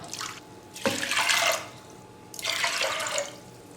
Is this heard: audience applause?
no